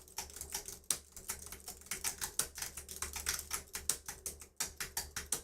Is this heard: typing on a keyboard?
yes